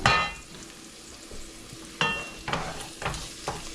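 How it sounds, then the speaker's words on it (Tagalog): Onion goes into a pan of lechon paksiw, with sizzling and frying sounds and several sharp bursts of hissing as the pieces are stirred and scraped in the hot pan. "Lagay ko na ngayon yung onion."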